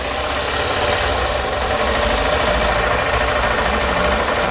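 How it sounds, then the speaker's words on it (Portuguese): A Honda Titan 160 motorcycle engine idles slightly revved, a loud, close, steady mechanical drone with a rough low rumble and no interruptions or voices. "Mas está na marcha lenta. Só um pouquinho acelerada."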